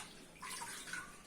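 Water is poured out while being changed, a short close splashing gush that starts abruptly and runs for under a second, with no talking.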